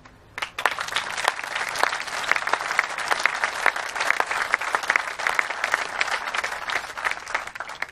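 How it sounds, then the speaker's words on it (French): An audience at the inauguration of a training centre applauds with sustained, dense clapping from many hands, moderately close and steady throughout, with no talk over it. "Je pense que vous pouvez vous applaudir"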